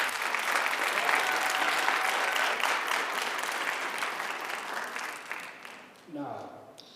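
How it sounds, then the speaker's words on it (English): Sustained audience applause for Dr. Bishop at the Twinsburg High School Black History Program, a steady broad wash of clapping from a large crowd that thins and fades near the end while a voice begins speaking. "Let's give another round of applause for Dr."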